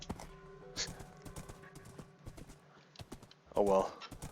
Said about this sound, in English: Kind of a slow horse.